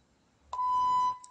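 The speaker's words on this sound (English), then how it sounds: "it comes up with a beep" A meditation timer gives a single clear electronic beep, a steady tone lasting about half a second, close and clean in an otherwise quiet room.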